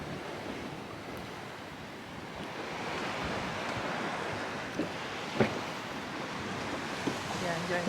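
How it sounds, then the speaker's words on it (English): Rough sea waves off the Maldives wash in a steady broadband roar, with a few louder surges breaking through near the end and some wind buffeting the microphone. "bit of rough seas up ahead."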